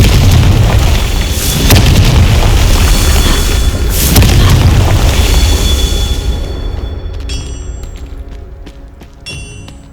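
Confringo fire-spell explosion in the video game Hogwarts Legacy: a loud booming blast, a second boom about two seconds later, then a fading rumble with faint chiming tones; no talk.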